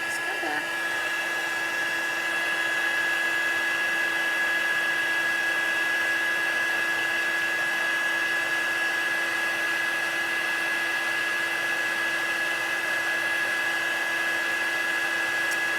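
A heat gun blows a steady, close whooshing roar with a faint whine while embossing powder is heat-set on a handmade sunflower card, running without a break.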